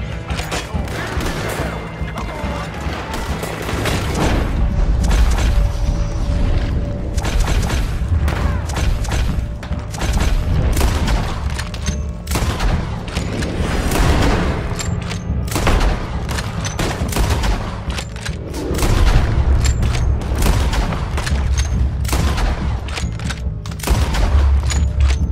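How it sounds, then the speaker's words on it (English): Gatling gun firing in the Red Dead Redemption 2 video game: loud, sustained rapid bursts of gunfire with heavy booms and thuds, continuous and dense throughout, close and dominant. "Gatling gun."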